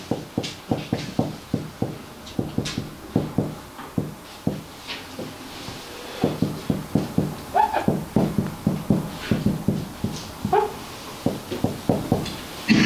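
A dog barks repeatedly in quick, sharp bursts, fairly close and loud, with short pauses and a few whimpering yelps mixed in, and no talking.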